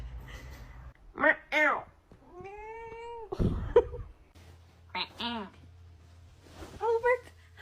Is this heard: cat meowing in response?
yes